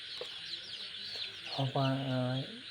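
Full-grown chickens clucking close by, soft clucks followed by one longer, louder drawn-out call.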